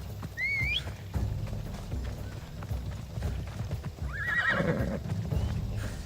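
A horse whinnies twice, once early and once later, with hoofbeats and ambient noise underneath.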